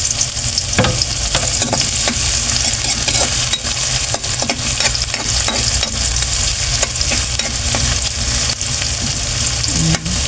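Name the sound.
garlic and onion being sautéed together in a pan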